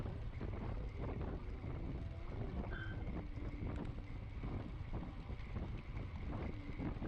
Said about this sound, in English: there is a headwind now